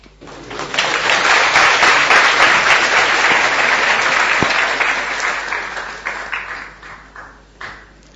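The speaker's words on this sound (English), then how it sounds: "See, they clapped for you." An audience at a Sunday feast gathering bursts into sustained applause, a dense wash of many hands clapping that swells quickly, holds steady, then thins into scattered claps as it fades.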